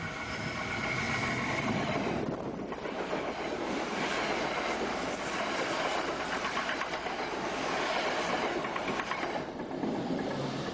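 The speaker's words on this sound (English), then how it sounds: "This is a commuter train." A commuter train rolls steadily over rail track, a continuous loud rumble of wheels with rhythmic clickety-clack from the wagons, sustained close by throughout without any voices.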